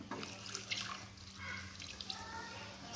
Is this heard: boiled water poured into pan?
yes